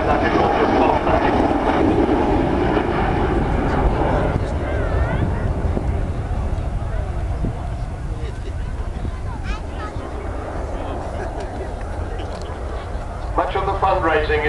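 An Avro Vulcan XH558 bomber flies a display at the RAF Waddington Airshow in 2011, its broad, rumbling jet roar filling the air continuously while a commentator talks over it.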